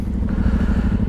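A Suzuki DR-Z dual-sport motorcycle engine idling or running close by in West Texas, a brief rapid, even low thumping putter with a slight clatter.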